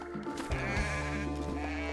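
A single drawn-out goat bleat in the video game DayZ, loud and close, wavering in pitch for about two seconds.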